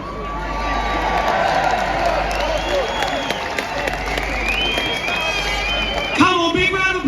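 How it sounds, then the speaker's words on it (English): A large crowd at an outdoor street rally in London cheers and applauds in a dense, continuous roar, with shouts rising over it and a louder burst near the end. "Come on, big round of applause for Kathy."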